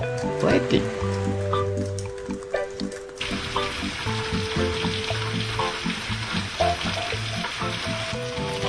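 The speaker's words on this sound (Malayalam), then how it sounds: "എപ്പോ തുടങ്ങിയ മഴയാ എൻ്റെ ദൈവമേ" Steady rain falling and pattering on surfaces with a sizzling hiss throughout, mixed with bursts of music and a voice talking over it.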